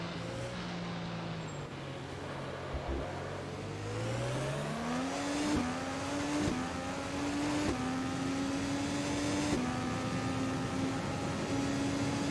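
IndyCar race cars pull away at the green flag on the Sao Paulo street circuit in Automobilista, a rising engine whine that climbs through several gear shifts over a steady mechanical drone.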